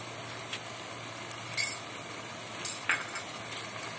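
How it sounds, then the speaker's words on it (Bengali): Spoon stirring salt into the spice mix for a papaya and shrimp curry in a pan, soft scraping with a few light metallic clinks against the pan over a faint steady hum. "নুনটাকে ভালো করে মশলার সাথে মিশিয়ে নিচ্ছি।"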